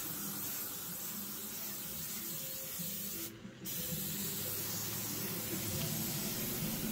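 Sealant spray hisses steadily across a diamond painting in cold weather outdoors, a continuous broadband spray with one brief break midway.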